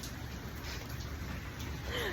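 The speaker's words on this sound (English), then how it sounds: "Look at this rain. It's been raining." Rain falls outdoors in a garden as a steady, even hiss of drops that holds at a constant level throughout.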